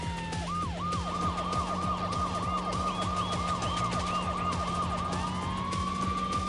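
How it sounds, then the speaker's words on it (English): In the video game Need for Speed 3: Hot Pursuit, police sirens wail in a rapid repeating yelp, echoing in a tunnel, over a steady engine drone with a low pulsing hum. "the sirens echoing in the tunnel"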